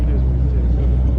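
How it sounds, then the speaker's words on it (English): A 1967 Ford Mustang Shelby GT500 runs on a test track at Dunsfold Aerodrome, its engine a loud, close, deep rumble that holds steady throughout. "my dad has just turned on the engine, and sounds gorgeous"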